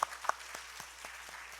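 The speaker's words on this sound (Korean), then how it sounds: "박수하겠습니다." A church congregation at an afternoon worship service claps, a few distinct, spaced-out claps at moderate distance, fairly faint and sparse rather than a full round of applause.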